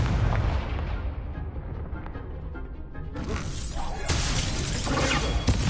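The Incendio fire spell is cast in Hogwarts Legacy: loud rumbling bursts and crackling blasts, with a sharp flare of fiery noise midway and another surge toward the end.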